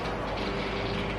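A cheap portable air cooler's pump draws in freshly poured water, making a short, steady mechanical whir and gurgling suction close by, with no talking.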